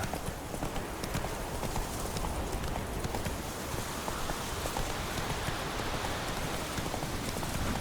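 Hoofbeats of the horse Roach galloping in The Witcher 3, a dense, continuous drumming of hooves under steady rain, close and loud throughout.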